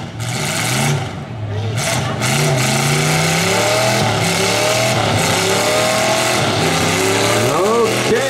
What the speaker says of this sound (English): 86 is just spinning as his bumper got locked up on that number 11, Jason Tolbin.